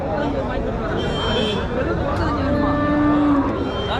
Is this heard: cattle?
yes